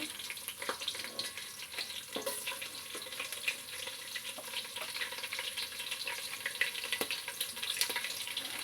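Green chillies and onion frying in a pan, a faint steady sizzle with scattered crackles and light pops running throughout, heard alone at a moderate distance.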